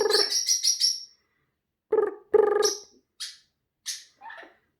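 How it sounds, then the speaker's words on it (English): Pet birds in a bird room chirp and squawk close by, a quick series of sharp calls followed by scattered single tweets separated by silence. "it's not the GameZone Birdroom without all the birds"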